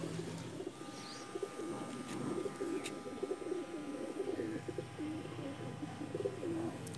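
Close, continuous cooing of a Pakistani Teddy pigeon, a low throaty warble that rolls on in repeated phrases over a faint background hum.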